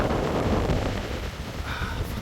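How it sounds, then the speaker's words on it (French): Steady, blustery icy wind roars across the microphone outdoors at a campsite, dense and loud throughout with no pauses. "Je sais pas si tu vas bien m'entendre avec le vent."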